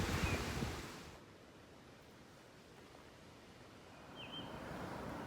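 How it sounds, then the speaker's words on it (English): Wind gusts by the Shenandoah River, a broad rushing noise that is strong at first, eases to a low steady hiss and swells again, with no voices. "If you can hear me over the wind"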